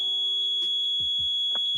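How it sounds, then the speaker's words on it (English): An Inmotion V13 Challenger electric unicycle keeps beeping after being powered off, a steady high-pitched continuous tone with a few low thumps and clicks over it, close and loud. "It keeps beeping even after the power is off."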